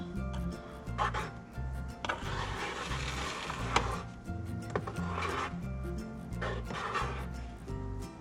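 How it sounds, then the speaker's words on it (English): Frosting is scraped around a cake with a scraper, a soft continuous rubbing and rasping that repeats in passes over a low steady hum, close and fairly quiet, with no talk. "We're just gonna scrape it all the way around."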